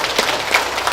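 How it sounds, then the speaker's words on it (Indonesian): A brief burst of crowd clapping at a madrasah elementary school farewell ceremony for graduating sixth graders, a short, fairly loud patter of many hands. "Tepuk tangan dulu untuk Madrasah Ibtidaiyah."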